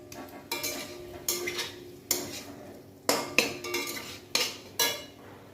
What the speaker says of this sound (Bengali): দেখো এবার আলু পটল মশলাটার মধ্যে আমি ভালো করে একটু কষিয়ে নিব।